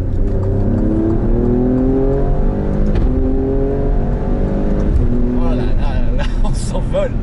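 An Alfa Romeo Stelvio Quadrifoglio SUV pulls hard to overtake on a road in Dubai, its engine note climbing steadily through the gears under continuous talking from inside the cabin.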